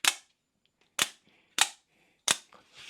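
An Artisan Cutlery OTF knife blade firing open and retracting, four sharp loud snapping clicks spaced unevenly apart, each with a quick decay, standing alone against near silence.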